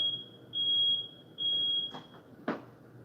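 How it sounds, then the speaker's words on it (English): A smoke alarm beeps indoors during a live chat, with two long shrill tones followed by a couple of short clicks and knocks, fairly distant over a low hum, with no talking. "looks like there's some alarm going off"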